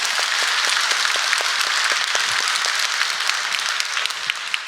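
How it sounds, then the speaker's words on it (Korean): A church congregation applauds together at the end of a sermon blessing: dense, steady clapping from many hands fills the room at full volume, holding strong throughout and tapering only slightly near the end. "박수 치겠습니다."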